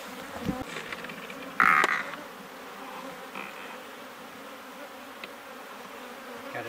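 Honeybees buzzing steadily at close range at a hive, with one louder burst of droning as a bee passes near, over a low ambient hum.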